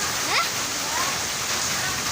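Very heavy rain pours down in Mirpur Khas, a dense steady hiss of downpour with splashing water, and faint voices and passing sounds underneath.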